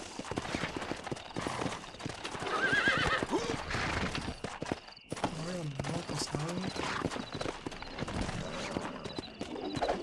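A horse in the video game Red Dead Redemption neighs and whinnies amid clip-clopping hooves, with a voice talking over it throughout and a brief gap midway.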